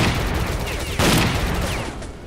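Dense, loud gunfire bursts in the video game Stalker Clear Sky, a rapid crackling fusillade close by with a heavier blast about midway.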